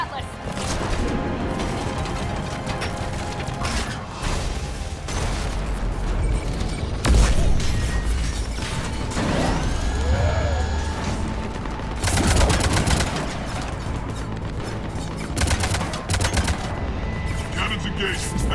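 Ship cannons fire in the game Mass Effect amid heavy battle, with dense, loud booms and rapid gunfire bursts layered over mechanical clanks and continuous combat noise.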